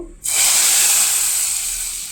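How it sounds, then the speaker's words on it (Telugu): Hot tempering (popu) is poured into sambar, setting off a sudden loud hissing sizzle that bursts in after a brief silence and stays strong, slowly easing over two seconds, close up with no voices. "ఇహ పోపు వేసేసుకుందాం ఇదిగో పోపు"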